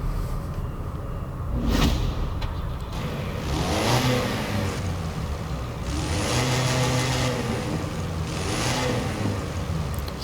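A 1924 Austin Seven with a ten-horsepower engine revs in Forza Horizon 4, rising and falling through several loud revving bursts, close up, with a steady engine rumble between them and no talk.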